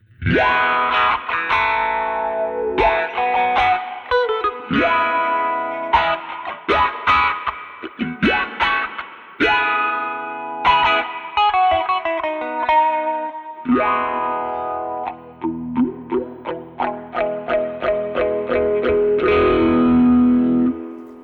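A sequence of distorted notes through an Old Blood Noise Float dual moving filter pedal, both filters on a sine LFO, giving a steady, wavering sweep that cycles smoothly and evenly throughout.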